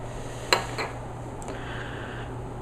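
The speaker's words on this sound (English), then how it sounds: "Mix with your rod, lightly swirling the cylinder." A glass rod stirs e-juice inside a graduated cylinder, making a few light, sharp clinks early on, then only a quiet room hum.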